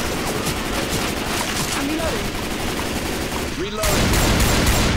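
Sustained rapid automatic gunfire from an overheating weapon in Left 4 Dead 2 rattles on loudly and continuously, briefly dropping out before surging back even louder.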